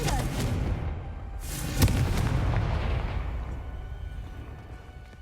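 A Confringo blasting spell in Hogwarts Legacy goes off as a heavy, booming explosion with a sharp crack partway through. A long rumbling tail follows and slowly fades.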